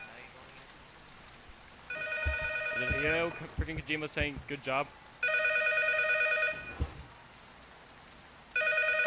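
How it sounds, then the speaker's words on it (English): A telephone in the P.T. horror game rings in three bursts of shrill, electronic bell tones with gaps between them, someone talking over and between the rings. "How do I answer the phone?"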